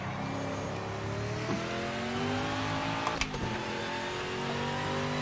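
A 1967 race car's engine revs and pulls hard in the PMR racing game, a sustained rising and falling mechanical drone with a sharp burst of noise partway through, no voices.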